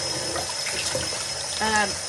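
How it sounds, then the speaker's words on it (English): A tap runs steadily while a wig is washed under it, a close, even rush of falling water with a brief higher tone rising near the end. "I don't know if you can even hear me over the top of the water."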